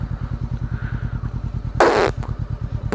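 An A2-licence motorcycle idles and rolls along a road with a steady low, pulsing engine thrum up close, interrupted by a brief loud burst of wind or hiss near the end.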